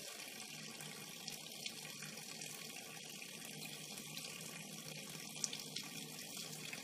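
Hot water runs steadily from a tap onto a glass bottle being cut with a Kinkajou bottle cutter, a continuous close splashing stream with no talk.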